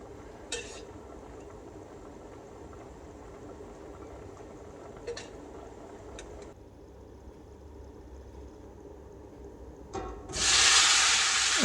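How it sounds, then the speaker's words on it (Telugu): Tomato pieces dropped into hot oil for a village-style tomato chutney, with a low steady sizzle and faint crackles, then a loud burst of hissing spitting near the end. "ఇప్పుడు ఒక 2 టేబుల్ స్పూన్ల నూనె వేసి 4 టమాటా ముక్కల్ని కట్ చేసేసి దాంట్లో"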